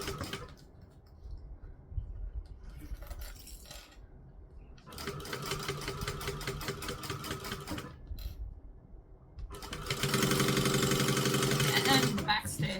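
A sewing machine stitches vinyl in bursts of rapid mechanical chatter, stopping and starting with quiet gaps between runs and a louder, denser final burst.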